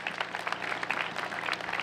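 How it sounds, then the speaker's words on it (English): A crowd at a Relay for Life cancer fundraiser in Mamaroneck applauds its sponsors with a sustained, fairly dense patter of many hands clapping at moderate distance, steady for the whole stretch. "Please give them a round of applause."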